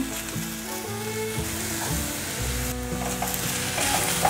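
Potatoes and shiitake mushrooms stir-fried quickly in a pan, giving a dense, loud, continuous sizzle with overlapping scrapes and a faint tonal hum running through, heard up close without voices.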